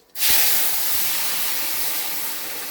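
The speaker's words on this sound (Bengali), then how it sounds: "এবারে এই তরকারিটা ঢেলে দেবো এতে" Vegetable curry poured into hot oil tempering with spices, a sudden loud sizzle that bursts in and then hisses on steadily, fading only slightly.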